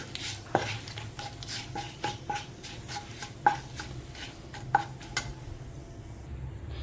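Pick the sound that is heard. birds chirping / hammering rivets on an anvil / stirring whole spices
stirring whole spices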